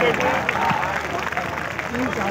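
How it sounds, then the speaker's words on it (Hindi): A crowded audience applauds at a large mushaira poetry gathering at the Expo Center in Karachi, a dense, steady wash of clapping with voices mixed in throughout. "भरपूर तालियां"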